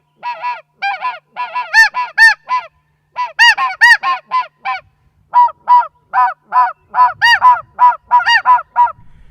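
A snow goose call blown by hand gives a long run of loud, close, raspy honks in quick bursts and short pauses, imitating a flock of snow geese.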